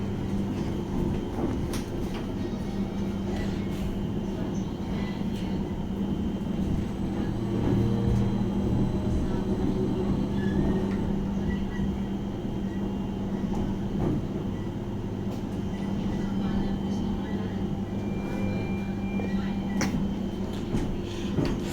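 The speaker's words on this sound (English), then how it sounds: "I'm hoping this is the train back to London," A Greater Anglia train sits at Colchester Town station, a steady low rumble and hum of the carriage running throughout with faint background noise and no clear talk.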